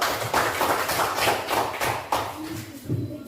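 Students in a classroom applaud a presenting group with a steady run of hand claps in regular pulses, tapering off near the end as some voices come through.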